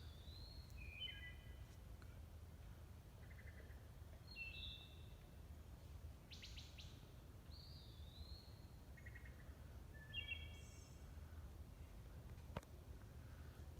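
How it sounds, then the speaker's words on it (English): Wood thrush singing far off along a New England river, its flute-like phrases repeating every second or two, faint over a steady low hum of insects and background noise. "The song we've just heard is the wood thrush."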